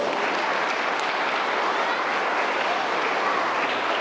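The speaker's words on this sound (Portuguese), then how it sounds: "Forte aplauso para o mês." Strong applause from a church congregation at a first holy communion service, a dense, even roar of many clapping hands sustained at full volume throughout with no talk above it.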